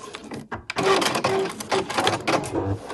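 A sewing machine back-stitches a backpack seam in short, rapid mechanical bursts of stitching with brief pauses between them.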